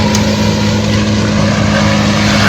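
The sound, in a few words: machine grinding up trees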